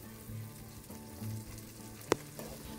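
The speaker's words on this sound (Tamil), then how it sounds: "தக்காளியுடைய சாறு நல்லா இறங்குற வரைக்கும் நல்லா வதக்கி விடணும்" Tomatoes and onions saute in a pan for brinjal katta, giving a low, even sizzle throughout, with one brief utensil clink near the end.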